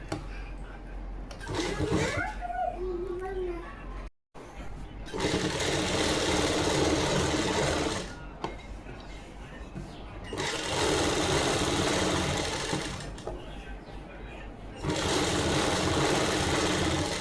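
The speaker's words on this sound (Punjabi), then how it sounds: "ਇਹਦੇ ਉੱਪਰ ਇੱਕ ਸਲਾਈ ਲਗਾ ਦਾਂਗੇ ਦੋਨਾਂ ਪਾਸੇ ਚਾਕ ਤੇ" A sewing machine stitching the side-slit seam of a Punjabi suit, long loud bursts of rapid mechanical whirring close by, separated by brief pauses, with a faint voice early on.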